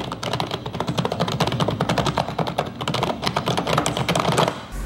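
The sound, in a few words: typing on a K612 Soldier RGB computer keyboard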